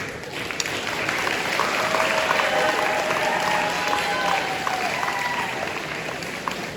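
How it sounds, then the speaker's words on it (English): Audience applause for athletes at a school sports banquet, steady sustained clapping from a room full of people, even and continuous, with faint voices mixed in. "Give them a round of applause"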